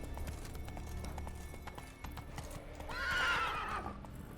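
A horse whinnies loudly in The Witcher 3 Wild Hunt, a drawn-out neigh rising over steady clip-clop hoofbeats and low game ambience.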